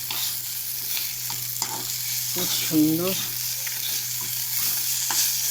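Shredded dhela fish fries crisp in hot oil with salt and turmeric, giving off a steady close sizzle with occasional stirring scrapes and a brief spoken remark.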